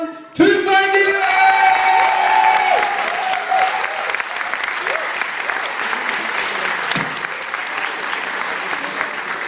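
Audience applause welcoming a Turkish singer at a university club event, a loud, sustained burst of clapping with a few whoops and cheers, with music playing over it at first.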